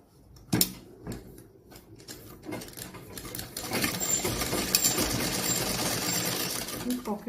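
Sewing machine stitching a pocket on a kalidar kurta: a few sharp handling clicks first, then the motor starts and runs in a steady, loud, rapid whir.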